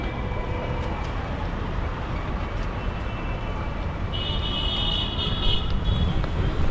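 Hyderabad Metro train rumbling steadily with a continuous broadband roar, heard from close by, and a brief high tone rising near the end.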